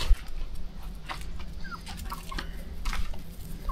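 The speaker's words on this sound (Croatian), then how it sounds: "Evo da vidite naše piliće." Chicks and chickens cluck and chirp in short, scattered calls over a steady low outdoor rumble, fairly close by.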